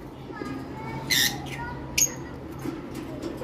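Parblue lovebirds, a turquoise male and a violet female in a breeding pair, give two short, sharp squawks a second apart, close by over a low background hum.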